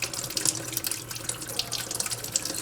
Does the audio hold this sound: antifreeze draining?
yes